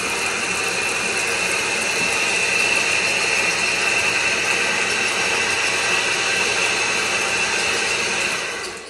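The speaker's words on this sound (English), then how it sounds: "Let's shift it into second gear. We can do that with it running." A 100-year-old antique drill press runs steadily after being shifted into second gear, giving a loud, continuous mechanical whir with gear and ratchet-like clatter throughout, no talk.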